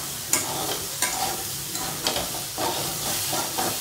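Fiddlehead fern greens sizzle steadily in a hot pan with a constant hiss, broken by regular scraping stirs about every half second, close and fairly loud.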